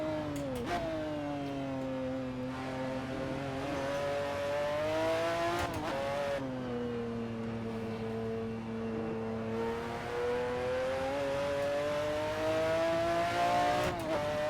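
McLaren F1 GTR race car in Assetto Corsa at the Nurburgring, its engine droning loud and steady at high revs with two brief dips for gear changes, on a final lap low on fuel.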